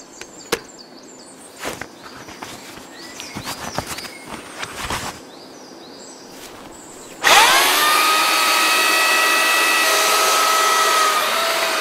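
A few scattered knocks and clatters, then a GARDENA electric chainsaw starts up and cuts wood with a loud, steady whining buzz until the end.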